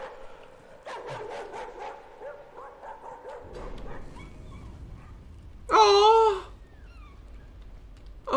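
A dog in the Layers of Fear horror video game yips and whimpers in short, plaintive bursts over a quiet eerie backdrop, followed by a sudden louder warbling cry near the end.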